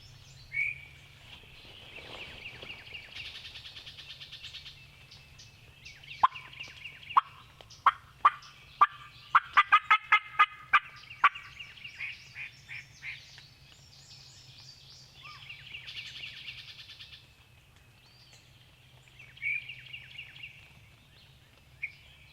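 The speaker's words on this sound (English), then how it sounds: "There he was, he gobbled." A wild turkey gobbles back at a hunter's call during a spring hunt, its rattling gobbles distant and faint, mixed with sharp nearby clicks and chirps over a low steady hum.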